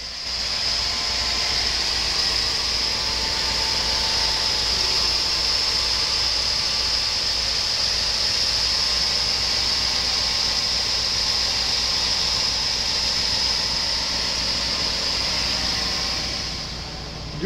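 A 1996 Chevrolet Silverado 1500 with a 5.7 liter V8 idles steadily at a salvage yard, a continuous loud engine drone with a hissing high whine running throughout, no talking over it.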